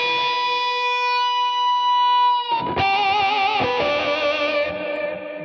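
Electric guitar played through a GNI Multi Fuzz pedal: a sustained buzzing fuzzed chord rings out, then a new, loud, dense fuzz chord strikes and holds with wavering tone until the clip ends.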